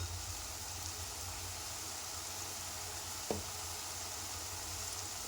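Radish pieces frying in oil in a pan, a steady soft sizzle with a brief clink near the end, no talking.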